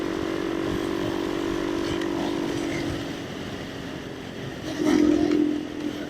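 A motorcycle ridden along a road in good weather, its engine droning steadily and close, easing off midway and then swelling briefly before settling again.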